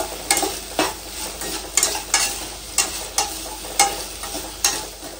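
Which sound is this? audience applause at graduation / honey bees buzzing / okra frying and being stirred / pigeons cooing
okra frying and being stirred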